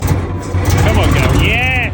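A military Alvis Stalwart's engine is cranked and given a kick of throttle while starting, a loud, steady rumbling drone with rising and falling whines throughout, and voices talking over it.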